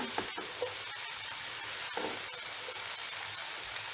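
Boiled macaroni tossed and mixed in a hot pan on high heat, giving continuous close sizzling with soft periodic stirring scrapes, moderately quiet and free of talk.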